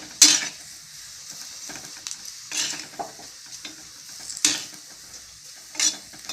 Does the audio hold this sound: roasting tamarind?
yes